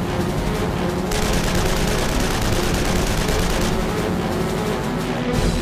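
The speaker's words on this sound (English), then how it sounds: "No sooner do McCudden's guns spark to life than Voss pulls his nose to bear." WWI fighter aircraft machine guns firing during a dogfight, a dense, continuous rattle of rapid shots that fills the whole stretch, loud and unbroken.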